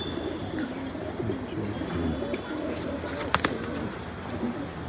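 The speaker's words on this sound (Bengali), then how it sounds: "ঢাকা সিটির কিছু বেশ বেশ পাঙ্কি কবুতর আছে" Tournament pigeons kept in Dhaka city cooing softly over a steady, low background hum, with a brief flutter of wings near the end.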